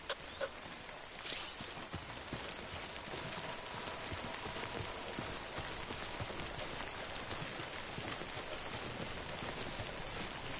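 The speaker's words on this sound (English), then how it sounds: "Good thing it was raining." Steady, dense video-game rainfall patters on surfaces all around, a constant hiss with faint scattered drops, moderately quiet and with no voices.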